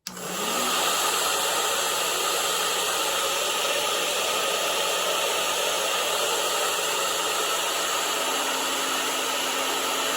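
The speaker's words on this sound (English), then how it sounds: "I'm going to activate it using a hair dryer, which I have right here." A hair dryer, used to heat-test a heat detector, switches on and blows with a loud, steady whoosh and hum that holds constant throughout, with no talking.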